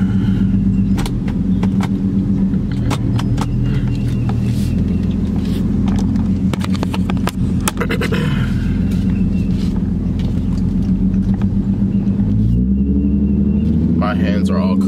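An Infiniti G35 being driven, its steady low engine and road rumble continuous from the cabin, with a faint jangle of keys and some brief clicks over the drone.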